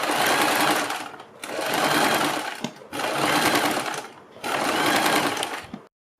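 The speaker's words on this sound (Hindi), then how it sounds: "इसके बाद हम बुकरम के बिल्कुल बराबर में पूरे गले के ऊपर सिलाई लगाएंगे" A sewing machine stitches along the buckram around a kurti neckline in four steady runs of rapid whirring, each lasting about a second and a half, with short pauses between them.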